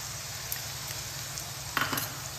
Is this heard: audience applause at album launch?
no